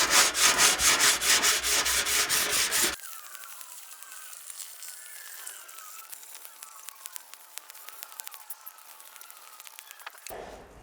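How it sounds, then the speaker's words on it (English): Sanding metal filler on a rusty MG TF front wing with 180 grit sandpaper: loud rhythmic back-and-forth strokes at first, then quieter scattered scratching and light taps. "So now I'm going to move on to 180 grit sandpaper and do the same thing again."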